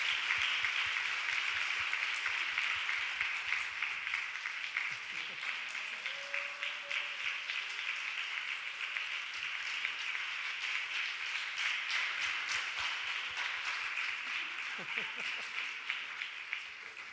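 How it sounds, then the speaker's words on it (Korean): A church congregation applauding during a Friday night prayer service, a long run of steady clapping from many hands with a few distinct sharp claps up close and some voices murmuring underneath. "박수해 주시길 바랍니다."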